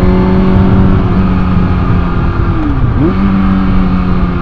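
A Kawasaki Ninja ZX6R motorcycle engine accelerates hard and loud, its steady droning pitch dipping briefly as it shifts gear, then climbing again, with continuous wind and road noise.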